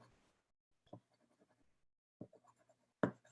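Regular Artist Loft colored pencils scratch softly across paper in short, faint strokes with quiet pauses between them.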